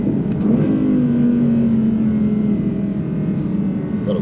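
An Audi R8 fitted with OPF filters accelerates on a rural road, a steady, loud engine and exhaust drone with a slowly shifting pitch, heard close with no talk.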